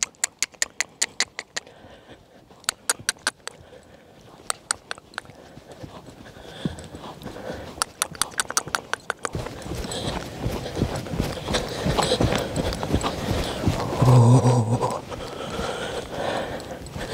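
A horse's hooves clop in short bursts of evenly spaced walking steps, crisp and close, fading into a noisier stretch of rustling and soft movement.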